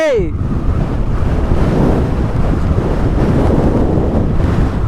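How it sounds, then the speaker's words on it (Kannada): At the Dhanushkodi coast, sea waves break in a strong wind, making a dense, steady wash of surf and microphone wind rumble that stays loud and close throughout. "ಈ ಸಮುದ್ರದ ಮಾತ್ರ ಅಲೆ ಈ ಕಡೆ ಹೊಡಿತೈತೆ"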